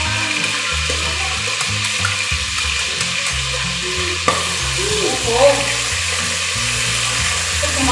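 Chicken masala curry sizzles and fries in a pan while being stirred, a loud steady crackle with scraping stir strokes and a brief clatter midway, close up with no talking.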